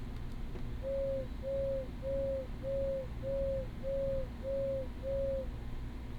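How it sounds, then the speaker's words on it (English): An owl in the video game Crow Country hoots a pattern of eight evenly spaced, steady hoots, moderately loud and clear over a low ambient hum, with no talking. "It hooed 8 times"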